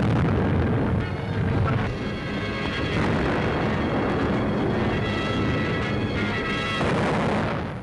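Japanese aircraft bombs and naval shells burst over Kyukyang on the Yangtze in a sustained, loud barrage of booming explosions with a rumbling undertone throughout.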